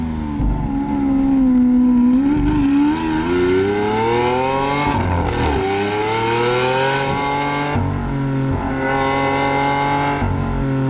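A Lamborghini Aventador on a test drive revs hard, its engine pitch climbing and falling through repeated loud surges heard from inside the car, with no talking.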